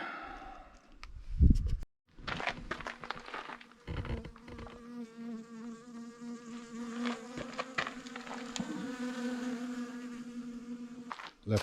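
Bees buzzing around water in a drain in the bush along the Bibbulmun Track in Western Australia, a close, steady drone with passing swells, a few clicks and a brief thump early on.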